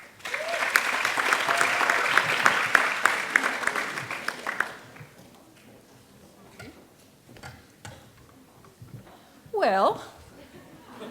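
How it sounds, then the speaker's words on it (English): A graduation ceremony audience claps in a lively burst that fades out after about five seconds, leaving scattered claps and a quiet room, then a short vocal sound near the end. "Should we do another round of applause for everybody to graduate?"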